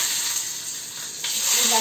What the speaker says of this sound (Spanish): ya aquí tengo en mi calderito un poquitito de aceite, donde voy a sofreír los ají y la cebolla